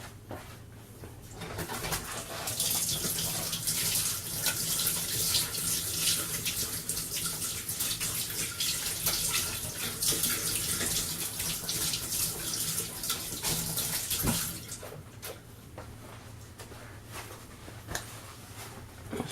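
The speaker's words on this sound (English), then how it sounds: "So I'm just going to wash my hands." Tap water runs steadily into a kitchen sink while hands are washed, a loud, continuous hiss lasting over ten seconds before it stops and quieter room sound returns.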